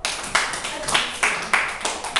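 Applause for a children's geography quiz team is heard as a few people clapping in short, separate bursts of claps at a moderate distance, with speech mixed in.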